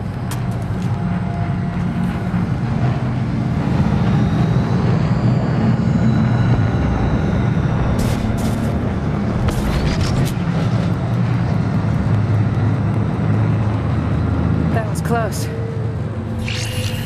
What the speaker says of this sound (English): Wait, is that... Drone.